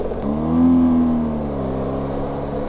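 A BMW R 1250 GS motorcycle accelerates to overtake on a mountain road, its engine note rising and holding steady as a loud, close, continuous roar with no talking over it.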